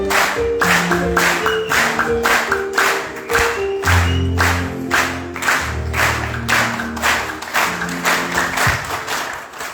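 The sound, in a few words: applause welcoming the singer to the stage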